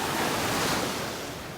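Ocean waves wash onto a beach in North Naples, Florida, a steady, loud, broadband rush of surf that slowly eases off, with no talking.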